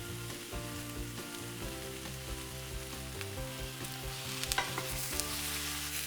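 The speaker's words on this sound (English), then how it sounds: "while the leeks are cooking" Leeks frying in a pan for a Greek dinner, a steady close sizzle with occasional stirring scrapes and small pops throughout.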